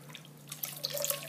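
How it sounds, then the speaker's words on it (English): Water draining through an automatic vivarium drainage system into a cup, soft trickling and dripping that grows slightly busier toward the end, close and quiet. "And there the water goes. Gradually into"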